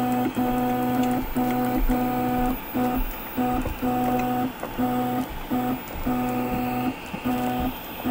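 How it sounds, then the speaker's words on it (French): A 3D printer lowering its axis hums with stepper motors in repeated bursts, each about half a second to a second long with short gaps between, loud and close throughout. "je vais faire descendre mon imprimante."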